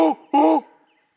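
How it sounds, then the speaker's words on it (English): A bird calls in the woods of a conservation area, two loud harmonic, voice-like calls close by, the second longer, then quiet. "I keep hearing a bird. It sounds like someone talking down there, but it's a bird."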